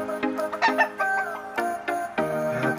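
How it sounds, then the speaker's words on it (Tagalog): Gamefowl on a farm crowing and clucking, several birds calling in overlapping bursts near and far, busy and fairly loud, with no talk. "napakadaming manok mga lords"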